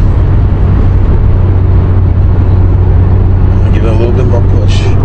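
A 2013 Hyundai Genesis Coupe accelerating, a loud steady low engine drone with road noise heard from inside the car, and a voice speaking briefly near the end.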